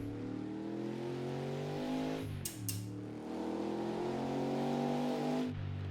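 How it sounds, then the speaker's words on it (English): Race car engine in the Assetto Corsa game, a WSC Legends car at Riverside, droning steadily at mid revs with a quick dip and climb around a gear change, then holding a smooth loud tone. "Just gonna do an outlap from this camera, because I love the way this car looks and sounds."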